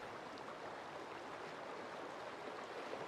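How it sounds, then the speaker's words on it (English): Steady, soft rushing of water from a waterfall in the game Satisfactory, a continuous even wash of noise with no voices, faint and unbroken throughout. "The illogical waterfall."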